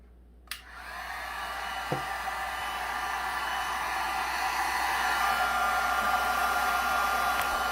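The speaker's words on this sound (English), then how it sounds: "Now we will shrink the heat shrink wrap with this heat gun." A heat gun blows hot air onto heat shrink wrap on a control and power kit: a steady airy roar starts after a click, holds evenly and swells slightly, with a couple of small taps and no talking.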